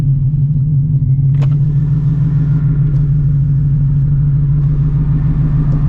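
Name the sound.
900HP Shelby GT350 engine during downshifts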